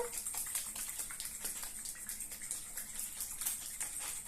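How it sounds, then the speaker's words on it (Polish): Five granules shaken in 50 ml of water in a container until they dissolve, giving a close, steady watery sloshing hiss with quick rhythmic surges throughout. "Mam tu już 50 ml wody, 5 granulek i wstrząsam, aż się rozpuszczą."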